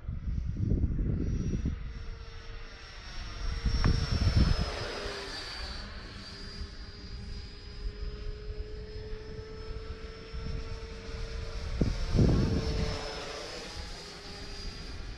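An E-flite F-16 Thunderbirds RC jet taking off from grass: a loud, steady electric ducted-fan whine holds throughout, with bursts of wind or rumble from handling, and the pitch drifts slightly as it runs.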